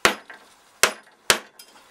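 Mallet blows on a chisel chopping a dovetail in wood, three sharp close knocks spaced under a second apart with short ringing decay, followed by a fainter tap.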